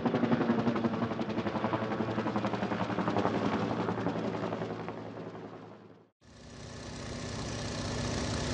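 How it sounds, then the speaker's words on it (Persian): A helicopter's engine and rotor make a loud, dense, rhythmically throbbing drone that cuts off briefly near the end and then resumes just as strongly. "بالگرد."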